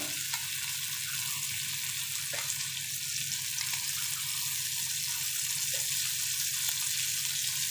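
Oil sizzles on a hot tawa while chicken fry is being made Malvani style, giving a constant even hiss with a few faint ticks throughout.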